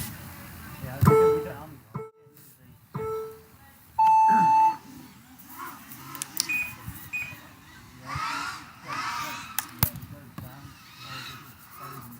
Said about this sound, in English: on the beeps